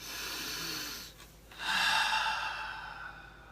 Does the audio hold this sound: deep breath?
yes